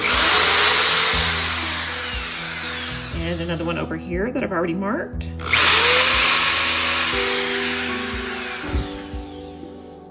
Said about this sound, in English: I am drilling a pilot hole.